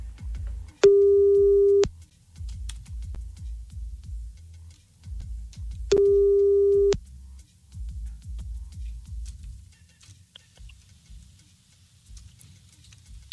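Two long, steady telephone ringback tones, each about a second, sound over a low muffled background murmur while a call is being placed on a French radio show.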